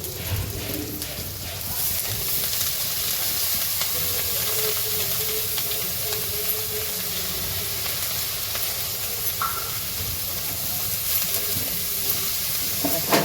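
Besan sabji with fresh coriander sizzles and hisses steadily in a pan while it is stirred, a continuous close frying sound with no voices.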